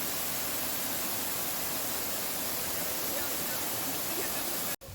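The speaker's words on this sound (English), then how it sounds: "On the side, there was a beautiful waterfall, and you just listen to it." A waterfall rushes steadily beside a duck and goose pond at Ramoji Film City in Hyderabad, a dense, even roar of falling water that holds level throughout before cutting off abruptly near the end.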